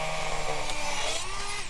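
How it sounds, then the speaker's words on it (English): A Dremel rotary tool fitted with a metal cutting disc cuts into wood during a floor installation, producing a steady high motor whine that holds throughout and drops off at the end. "With my Dremel, I'm using a metal cutting disc."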